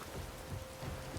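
Rain falls in the survival game Soulmask, a dense, even wash of steady noise with a low rumbling undertone throughout.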